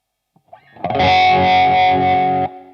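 Electric guitar through a Dunlop Crybaby Q Zone fixed wah pedal, a loud, bright chord swelling in after a few soft plucks and sustaining with a filtered, slightly pulsing tone before cutting off.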